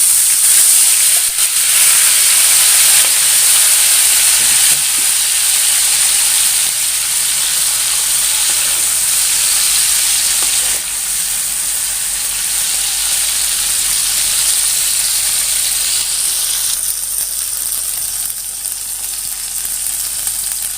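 Dragonflies (capung) frying in hot oil in a pan, a loud, dense and steady sizzle with crackling hiss that holds throughout, close up with no talking.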